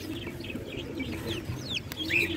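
Red bantam chickens cluck softly in short, scattered calls over a low background rumble, fairly faint and close, with a sharper, higher call near the end.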